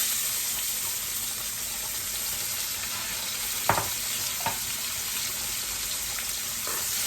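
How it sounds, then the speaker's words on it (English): Onions fry in a pan of steak grease for gravy, giving a constant bright hiss throughout, broken by a couple of short utensil knocks near the middle. "And right now I'm gonna take and add my onions."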